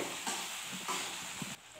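Crushed carom seeds are stirred into a pan, giving a few soft scraping strokes over a quiet, low sizzle, close by and without speech.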